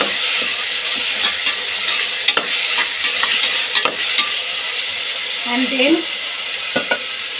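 Chicken biryani ingredients fry in a hot pan with a steady bright sizzle, while a spoon stirs and scrapes through them in scattered knocks, close and continuous.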